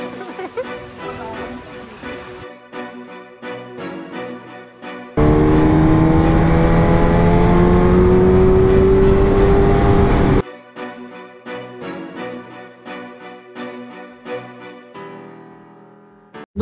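A BMW S1000RR motorcycle rides through hilly country in Purulia, first under loud music, then a strong engine roar with rising revs for several seconds before music returns.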